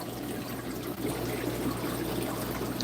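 Water pours steadily from an aquarium waterfall in a fish room, a continuous close trickle and splash at an even level, with a low mains hum underneath and no talk.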